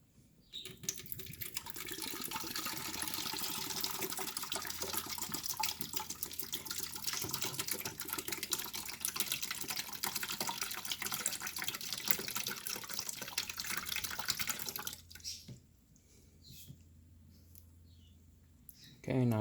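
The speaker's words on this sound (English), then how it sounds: "Okay, now I'm gonna fill this same bottle up with water and pour that water back in there." Tap water runs steadily into a plastic bottle being filled to rinse a Keurig brewer during descaling, a continuous hissing splash lasting about fifteen seconds before it stops, followed by faint handling clicks.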